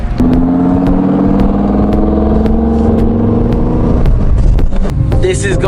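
Twin-turbo Audi R8 of 1000 hp accelerating away at a cars and coffee meet, a loud rising engine roar with gear changes and clattering, then ending in a burst of crackle and noise.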